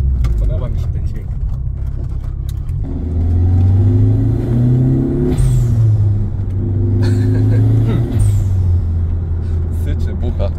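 A BMW E36 fitted with a 1.8 M43B18 turbo engine rumbles close by, revving in surges with turbo hiss and puffing blow-off bursts between pulls.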